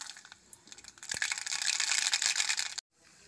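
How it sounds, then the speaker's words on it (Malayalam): Mustard seeds splutter in hot coconut oil, a dense run of crackling pops that swells after the first second and holds loud, then cuts out abruptly near the end. "കടുകൊക്കെ നല്ലോണം പൊട്ടിയിട്ടുണ്ട്."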